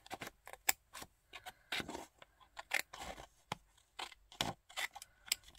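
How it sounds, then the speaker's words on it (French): Scissors trimming excess paper on a Christmas scrapbooking artist trading card, a quick series of crisp close snips and small rustles at a quiet level, with no voices. "Alors là, je vais venir couper"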